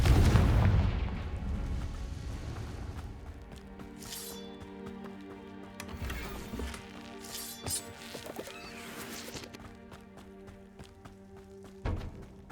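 Confringo fire spell explosions in the Hogwarts Legacy video game, with a loud booming blast at the start decaying into rumble, followed by fainter scattered impacts and crackling bursts, one sharp hit near the end.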